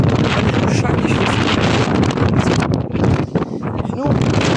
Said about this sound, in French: il y a du vent, comme vous pouvez le constater